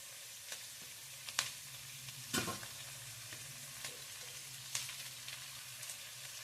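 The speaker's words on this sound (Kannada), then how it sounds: "ಐದೆರಡು ನಿಮಿಷ ಫ್ರೈ ಆಗಬೇಕು ಗೋಲ್ಡನ್ ಕಲರ್ ಬರಬೇಕು" Leftover-rice oggarane frying in a pan, a steady soft sizzle broken by a few sharp scraping stirs of the spatula, close and fairly quiet, with no one talking.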